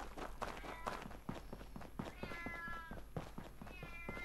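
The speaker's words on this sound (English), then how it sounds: "Somebody shut that damn cat up." A cat meows repeatedly in the video game SOMA, several drawn-out plaintive cries over footsteps and scuffling, with faint background noise and muffled voice-like sounds mixed in.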